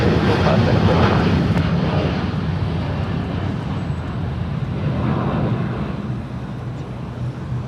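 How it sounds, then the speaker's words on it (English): A United Boeing 787-9 Dreamliner takes off from LAX bound for London Heathrow, its jet engines producing a loud, sustained broadband roar that slowly eases, with faint radio chatter in the background. "That was United 923 Heavy off to London Heathrow, the Boeing 787-9 Dreamliner."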